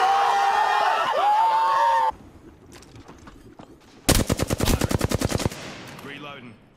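A rapid burst of automatic gunfire in Apex Legends, a dozen close, sharp shots in tight rhythm lasting just over a second, preceded by a game voice line and quieter in-game sounds.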